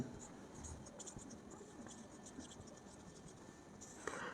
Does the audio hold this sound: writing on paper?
yes